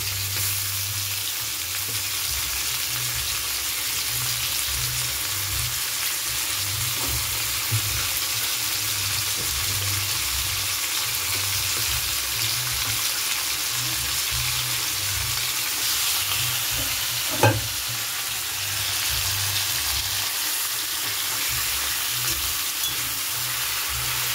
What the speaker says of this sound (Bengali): পেঁয়াজ, টমেটো সব একসঙ্গে ভাজা হবে।